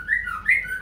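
A murai, or magpie robin, in an open field, over-excited and in breeding condition, gives two quick, bright whistled notes close by.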